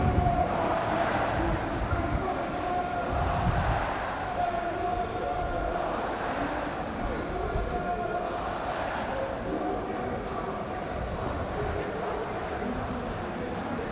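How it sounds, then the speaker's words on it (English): Dense crowd hubbub fills the Gamescom 2014 show floor in Cologne, a steady loud roar of many voices and booth noise with no pauses, the whole hall echoing around a large game-company booth where gifts are thrown to the crowd. "There are a huge crowd and they're throwing gifts out."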